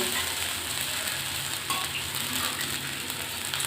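Hot water is poured into a pan of ginger paste and dalia for khichuri, producing a steady, close hiss and sizzle that holds for a few seconds without any voices.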